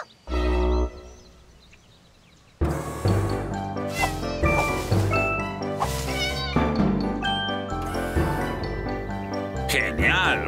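Cartoon cats meowing in a children's animated show, with several loud, close meows and yowls over lively background music and character voices.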